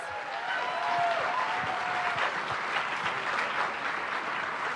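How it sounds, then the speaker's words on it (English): A large audience applauds steadily as Secretary of State Hillary Clinton is welcomed to the stage in India, a dense, even wash of many hands clapping at once, with no voices standing out. "Let's have a huge round of applause"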